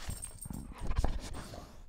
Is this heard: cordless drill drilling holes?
no